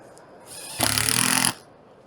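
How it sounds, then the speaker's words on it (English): A power driver runs a screw into a metal standing seam roof ridge cap in one loud, close burst of about three-quarters of a second, starting abruptly and cutting off just as fast. "So we're going to screw a couple in here."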